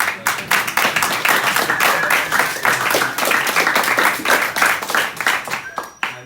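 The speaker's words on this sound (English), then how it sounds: "We can give one round of applause." A seated audience applauds panelists after a discussion on women and Judaism, with steady close clapping from many hands that tapers off at the end.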